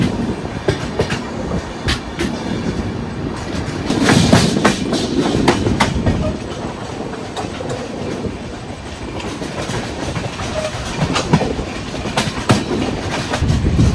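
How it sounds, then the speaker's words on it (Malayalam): Dakshin Express pulling into Chandrapur station, with a continuous rumble of railcars and rhythmic clickety-clack of wheels on the tracks, loud and close throughout. "ദക്ഷിൺ എക്സ്പ്രസ് അങ്ങനെ 1 മണിക്കൂർ ലേറ്റായിട്ട് ഇവിടെ ചന്ദ്രാപൂർ എത്തി."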